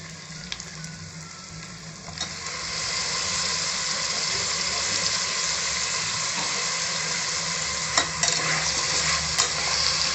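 Potatoes and tomatoes for egg biryani sauté in a hot pan with a steady, close sizzle, while a spoon scrapes and stirs in occasional clinks and bumps and the frying grows slightly louder after the first couple of seconds.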